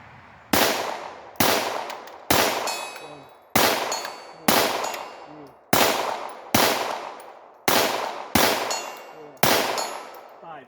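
A Ruger Mark IV pistol fires a steady string of about ten sharp, loud shots at an outdoor range, each crack followed by a short ringing decay, roughly one shot per second.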